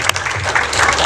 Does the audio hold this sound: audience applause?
yes